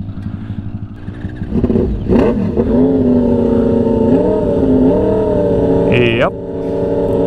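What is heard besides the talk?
Yamaha R1 engine in aftermarket frame with nitrous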